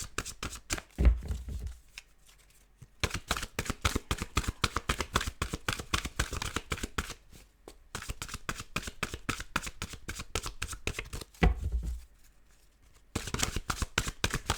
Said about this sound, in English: Just need to be a little bit quiet as I shuffle.